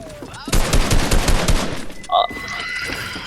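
Rapid bursts of video game gunfire crackle loudly through the middle of a battle royale match, followed by a short bright chime and a quieter tail.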